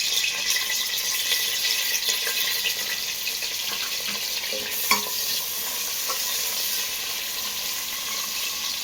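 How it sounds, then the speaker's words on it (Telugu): Chopped onions and green chillies fry in hot oil in a pan for khuska biryani, with a steady continuous sizzle and occasional clinks and scrapes of stirring. "ఈ ఉల్లిపాయలు కొంచెం ఎర్రగా ఏగనివ్వండి."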